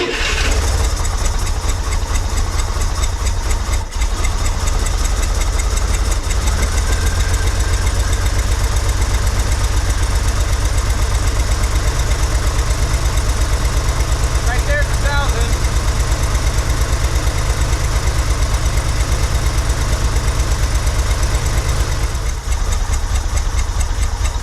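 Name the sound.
1963 Corvair engine idling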